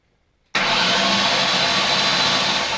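A Ford Coyote V8 swapped into an SN95 New Edge Mustang cranks over after a moment of silence, kicking in abruptly and holding a loud, steady, whirring churn without firing.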